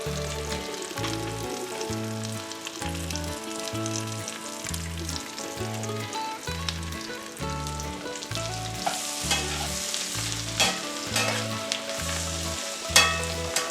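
Potatoes for hillbilly hash frying over medium heat in a pot, a strong steady sizzle with repeated stirring and scraping strokes, a regular pulsing rhythm in the background, and no talking.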